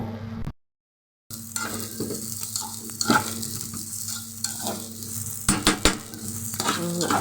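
Basmati rice toasts in a pot while being stirred, with steady sizzling, scraping and clinking of a spoon against metal, a short silent gap near the start and sharper stirring knocks later.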